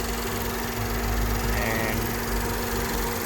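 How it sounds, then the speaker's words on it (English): Suzuki Fronx's 1-liter turbocharged Boosterjet engine idling close up, a steady low hum with a constant tonal whine, even and continuous throughout. "This is the 1 liter booster jet engine"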